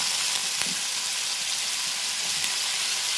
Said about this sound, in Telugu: వంకాయ ముక్కలు కూడా వేసేస్తున్నాను.